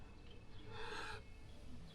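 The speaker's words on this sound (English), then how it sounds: "I bet that's that bloody seagull that woke me up at 4 o'clock this morning" A seagull calls once outside a hotel in an English seaside town: a faint, distant, half-second cry over a low background hum, then quiet.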